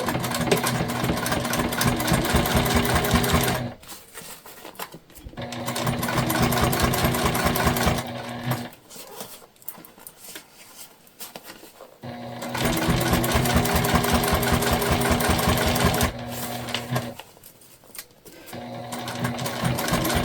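A sewing machine runs in long bursts while finishing the binding on a Nightmare Before Christmas crossbody bag, stitching loudly and steadily for several seconds, pausing briefly, then starting again.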